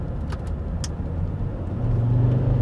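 A 300,000-mile Volvo XC90 engine hums steadily from inside the car, its tone rising slightly toward the end as the gearbox drops from fifth into third in manual mode.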